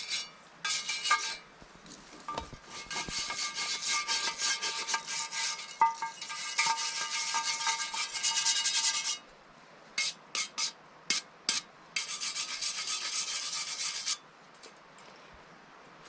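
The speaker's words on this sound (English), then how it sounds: "I got to get some of the rust brushed off first." A wire brush scrubs rust from a cast iron Dutch oven in long, harsh rasping strokes, broken by a pause and a few short scrapes before another sustained burst.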